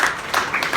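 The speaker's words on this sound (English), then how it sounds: "Round of applause for my father." A comedy show audience claps briefly, a short, moderately loud patter of applause with some rhythmic swells, heard alone.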